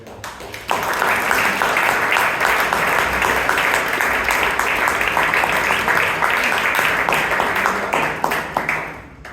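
A Toastmasters club meeting audience in Bangalore breaks into steady applause that starts abruptly, holds at an even loud level for several seconds, then tapers off.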